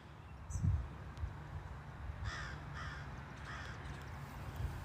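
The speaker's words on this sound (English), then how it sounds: "That crow's over here somewhere still." A crow caws three times in quick succession, moderately distant, in a cemetery at Fort Edward, New York, over a quiet outdoor background with a soft thump early on.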